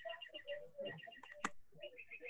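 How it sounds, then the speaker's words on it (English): Outside on a porch, a bird gives faint, repeated high chirping calls in short rhythmic phrases, heard quietly at a distance. "I hear a bird."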